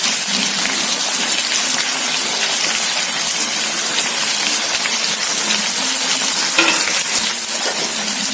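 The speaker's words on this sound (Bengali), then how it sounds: "পাঁচ মিনিট এই সাইডে ভাজা হবে" Hilsa fish frying in oil in a pan for mustard hilsa, a loud, dense, continuous sizzle and crackle close up, steady throughout with no talk.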